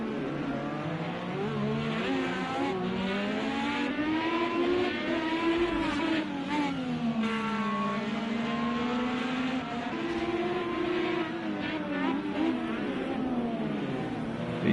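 IndyCar race cars in a sim racing game sweep through the Laguna Seca corkscrew, with steady, loud, continuous engine whine rising and falling in pitch as the cars brake and accelerate, with no talk over it.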